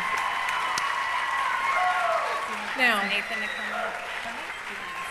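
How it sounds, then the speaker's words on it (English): Audience applause and cheering fill a stage show during a dance competition awards ceremony, a steady crowd wash running under an announcer's voice, with a brief louder swell near the middle. "let's give them a round of applause"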